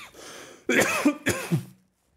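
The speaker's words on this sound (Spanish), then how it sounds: "Hasta me está dando tos de la emoción." Two sharp coughs close up, following a faint breath, then quiet.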